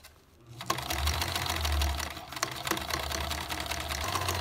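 A sewing machine stitching fabric for a reusable barber cape, a loud, close, continuous mechanical whir with rapid needle clatter that runs steadily after a brief quiet start.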